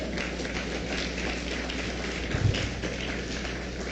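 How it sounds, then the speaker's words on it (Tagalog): A church congregation breaks into loud, sustained applause, a dense steady wash of many hands clapping for a few seconds with no voices on top. "Pwede ba natin bigyan ng malakas na palakpak ang ating dakilang Diyos?"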